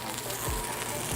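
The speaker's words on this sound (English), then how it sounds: "I like to add a little bit of butter into the pan" Butter sizzles and fizzes in a hot pan with crisp-seared gnocchi, a steady close hiss with a faint crackle over its short run.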